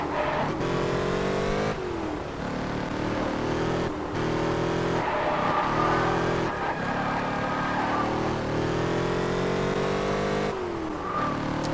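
A racing car engine in the video game Test Drive Unlimited revs and drones continuously, climbing through gears with repeated shifts, alongside occasional tire squeal while driving off-road, loud and steady throughout.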